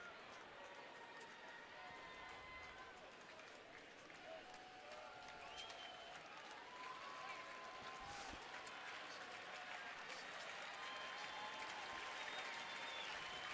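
A baseball crowd at an Oakland at Cleveland game in 2013 applauds steadily, a broad, continuous wash of clapping and stadium murmur that holds for the whole stretch without a break.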